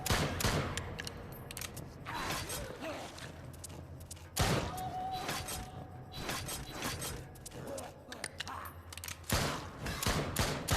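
Rapid shotgun blasts ring out in the Drop Dead Dual Strike shooting game, close paired double shots repeating in bursts with brief lulls, crackling and loud over a busy backdrop.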